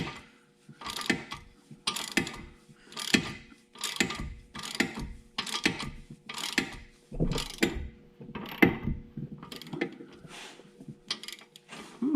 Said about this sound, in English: Now I'm using a ratchet because I already broke it loose.